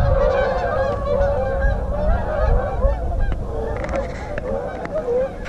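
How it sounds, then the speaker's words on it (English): A large flock of geese honking together, overlapping nasal calls in a continuous noisy chorus, fairly close, with no talking. "There go the geese."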